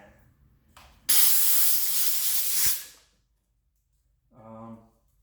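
A steam cleaner blasts cast aluminum engine parts with a loud, steady hiss lasting about two seconds before it cuts off, set apart by quieter moments and a brief voice afterward.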